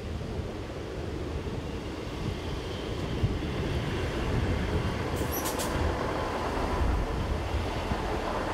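A Class 158 diesel train, unit 158786, runs at Garsdale station on a Carlisle to Leeds service in mist and rain. A steady low rumble of engine and wheels rolls on throughout, with a brief faint squeal midway and no talking.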